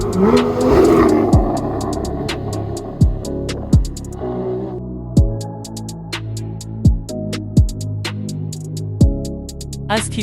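A Porsche 718 Spyder engine roars in a loud rev at the start, then sharp, evenly spaced bursts repeat over a low rumble with no voices.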